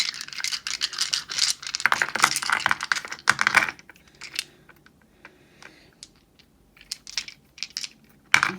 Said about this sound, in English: we're rolling 2 dice for you today, so not very many